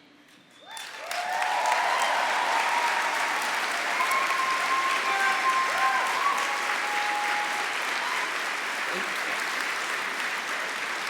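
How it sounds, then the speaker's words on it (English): An evening crowd bursts into applause that swells within a second and holds as a loud, sustained wall of clapping for about ten seconds, with faint voices and cheers mixed in. "Pause for applause."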